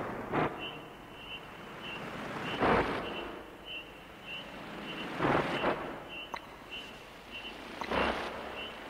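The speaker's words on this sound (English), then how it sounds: "The chirping of crickets?" Synthesized crickets from a Wersi Arcus CD45 organ: a steady, rapidly pulsing high chirp runs throughout, interrupted by several broad whooshing swells of noise.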